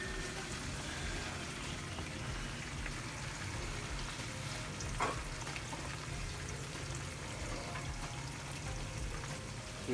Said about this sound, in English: Let that saute for a minute.